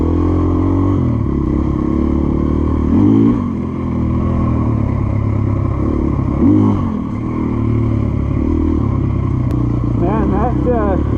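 2024 Gas Gas EC450F dirt bike riding over rocky ground, a continuous close four-stroke engine drone with brief throttle blips and rises, rider talking over it throughout.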